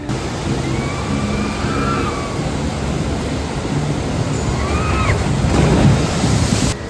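Water rushing and splashing at the Toon Lagoon water ride at Universal Orlando, a loud continuous wash of surf-like noise with wind buffeting the microphone and no clear talking.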